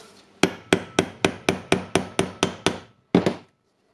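A hammer taps a ball bearing onto the shaft of a Milwaukee brushless angle grinder during repair, ten evenly spaced sharp metallic blows, then a short pause and one final strike, close and crisp.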